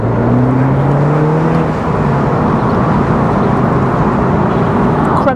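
MINI Cooper S Convertible driving on the road, a loud close engine note with wind and road noise that stays steady throughout, a few short gear-change dips early on, no talking.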